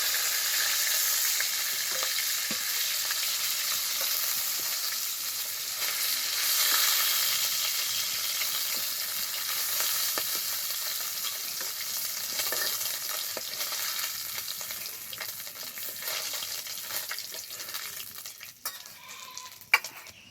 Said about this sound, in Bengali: এরকম মাছের মাথাগুলো খুব ভালোভাবে ভেজে নিয়েছি, এবার তুলে নেব।